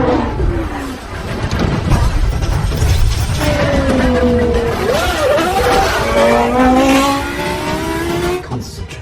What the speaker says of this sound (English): Sliding McLaren on the very edge there.